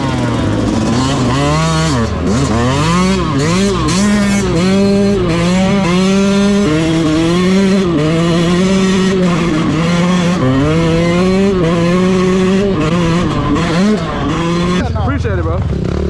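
A brand new 2022 Yamaha YZ125 two-stroke dirt bike being ridden, its high-pitched engine revving up and down in repeated rising and falling sweeps, loud and close throughout, with voices talking over it.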